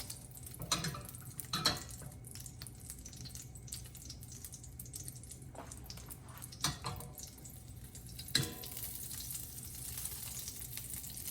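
Butter and olive oil melting over medium-high heat in a pan, a soft continuous sizzle broken by a few sharp pan knocks and clinks, fairly quiet and close, no talking.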